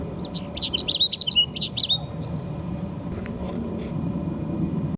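A short, fast, high-pitched Bell's sparrow song of rapid chirped notes in dense chaparral, heard once over steady low background rumble, then a few faint distant calls.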